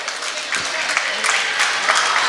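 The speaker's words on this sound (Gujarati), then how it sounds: "જોરદાર તાળીઓથી વધાવીએ." Audience at an award distribution ceremony gives sustained applause for a young badminton winner, dense clapping at a steady level throughout.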